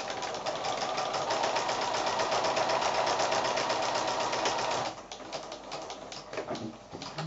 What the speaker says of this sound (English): I'm now going to sew along that line and start 1/4 inch beyond in the next shape and then stitch right along that straight bit